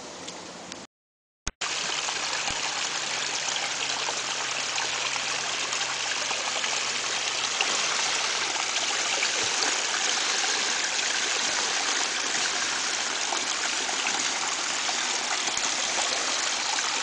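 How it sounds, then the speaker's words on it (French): Steady broadband rush of a small stream flowing into Lake Bowker in an uninhabited stretch, continuous close water trickling and splashing that holds even and loud after a brief silent gap at the start. "Un des nombreux ruisseaux qui alimentent le lac Barker, dans la partie inhabitée."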